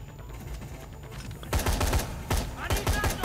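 Gunfire in the zombie game Dead Rising 3, starting after a quiet stretch with several loud bursts of rapid shots separated by short pauses.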